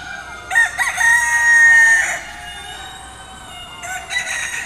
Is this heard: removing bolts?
no